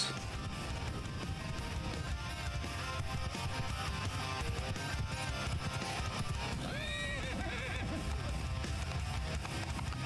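A horse whinnies briefly after being shot amid a dense, loud Mount and Blade Bannerlord siege soundscape of constant clatter and battle noise.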